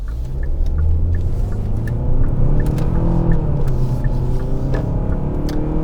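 A 2021 Hyundai Santa Fe SEL accelerates hard at full throttle into a turn. Its engine makes a loud, steady roar with a deep road rumble throughout, and no one speaks.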